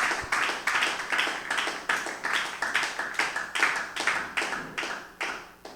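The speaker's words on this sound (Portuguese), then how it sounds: "exaltar o Cordeiro de Deus com as palmas bem alegres" Church congregation clapping joyfully in unison during a Portuguese-language worship service, a near, regular rhythmic beat of palms sustained from start to finish with no voices.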